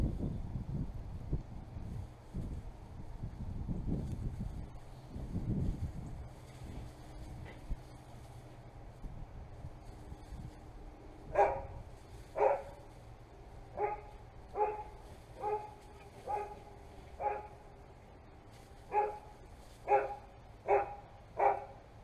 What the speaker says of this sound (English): the dogs have noticed the fact that there's a tomcat up here somewhere